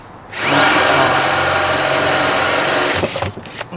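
A power drill bores a clearance hole through a router base, running loud and close in one steady sustained whine for about three seconds before winding down.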